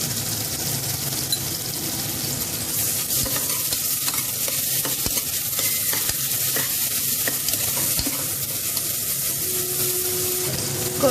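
Garlic paste fries and sizzles in a pan of browned onion for vegetable biriyani, a steady crackling hiss broken by scraping stirs of a utensil against the pan.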